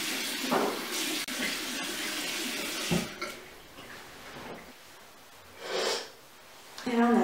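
A tap runs into a sink while a face is rinsed, with splashing and snorting breaths, the water rising in short bursts near the mic.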